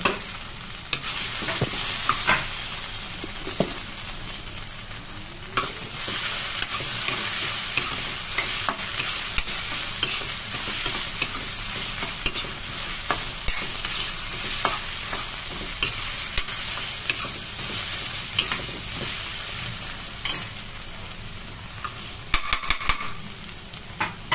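Pointed gourd (potol) pieces sizzle in a pan with ginger-garlic paste for doi potol, a continuous frying hiss broken by repeated spatula scrapes and stirring knocks, no talking.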